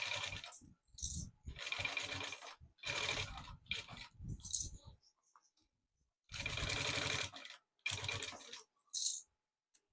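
Domestic sewing machine stitching slowly around curves in fabric for a small maternity organizer pouch, several separate bursts of close mechanical whirring broken by pauses.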